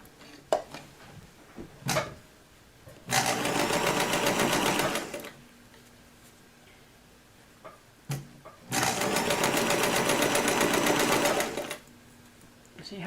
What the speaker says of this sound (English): Okay, we are ready to sew this on.